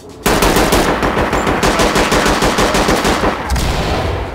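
Sustained rapid gunfire in the tactical police shooter Ready or Not, loud and dense automatic bursts rattling continuously for several seconds with a brief lull near the end.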